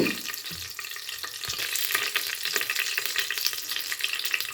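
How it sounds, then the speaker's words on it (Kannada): Pulao spice mix hits hot tempering oil for a jackfruit biryani, sizzling and crackling loudly and continuously while a spoon stirs it through the pan. "ಈಗ ನಾನು ಪಲಾವ್ ಎಲೆದು ಮಿಕ್ಸ್ನ ಒಗ್ಗರಣೆಗೆ ಹಾಕ್ಕೊತಾ ಇದ್ದೀನಿ"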